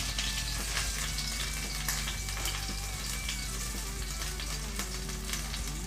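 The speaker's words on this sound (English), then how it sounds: "So just to start sweating this little spinach off in the pan." Spinach sweating in a hot pan, a steady, even sizzle and crackle with scattered pops that continues without a break, close and moderately quiet.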